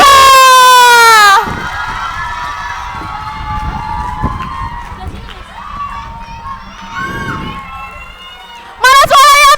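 Young students cheer and shout loudly, with applause, as a student council candidate is called up at a school debate at MTsN 1 Kota Kediri. A dense crowd roar swells and fades, and an announcer's voice sounds at the start and end.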